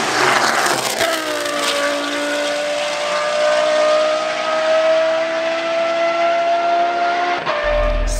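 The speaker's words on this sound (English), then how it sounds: "I think this is easily the best sounding car in the paddock, because like when it's on a flyby, it's mesmerizing." Widebody Toyota Supra time attack car with a sequential gearbox and V10 engine screams past on a steady, high-pitched, sustained note, loud and close, with a brief gear-change break near the end and no talk.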